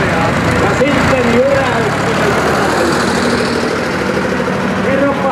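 Vintage tractor built on an old Fortuna chassis with a V10 engine, idling with a steady low rumble and vibration at a tractor parade in Riihimäki, with people talking over it.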